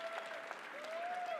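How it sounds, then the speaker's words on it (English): A crowd at a cricket keynote breaks into applause, a brief, fairly soft wash of clapping heard at some distance with a faint tone running beneath. "Big applause for that."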